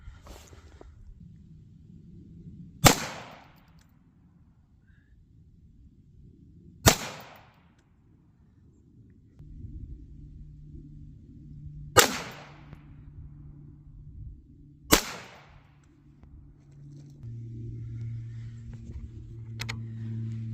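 .17 HM2 rimfire rifle rounds, CCI and Hornady, are fired into ballistic gel: four sharp, loud cracks several seconds apart, each decaying quickly into quiet outdoor background.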